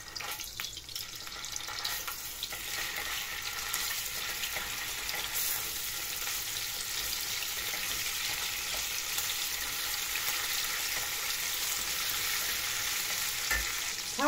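A spoonful of tomato paste frying in a pan, a continuous dense sizzle lasting many seconds with light occasional stirring scrapes, steady and close but fairly soft.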